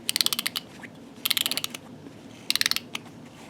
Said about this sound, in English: when you wind her up, I guess her head bobs around and she sucks her thumb